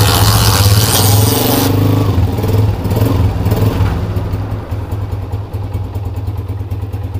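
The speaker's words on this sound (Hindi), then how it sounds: "बाइक स्टार्ट करो बेटा।" A Honda CG125 motorcycle engine rumbles loudly, settling into a steady, chugging idle with a rhythmic low putter.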